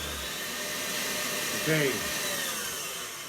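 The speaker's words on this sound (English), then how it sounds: "The sound of this mixer eventually gets to me." A stand mixer whips genoise sponge cake batter with a steady, even, high whirring drone throughout; a voice speaks one brief word partway through.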